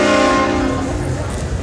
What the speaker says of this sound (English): Oh, no. Train horn?